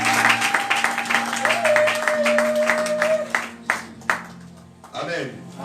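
A church congregation claps in acclaim of the word of the Lord, a dense run of rhythmic applause that thins into a few scattered claps, with a sustained tone and voices underneath.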